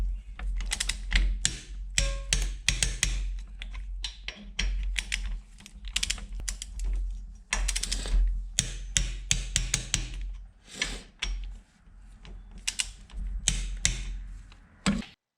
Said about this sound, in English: now we're going to tighten the two Allen head keys at the back of the subframe